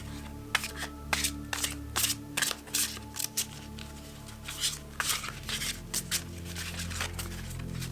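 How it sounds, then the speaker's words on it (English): A chunky Old Gods tarot deck shuffled hand over hand, producing irregular soft slaps and riffles over a low background hum, close up and fairly quiet. "A little bit different to shuffle, of course, than a standard deck."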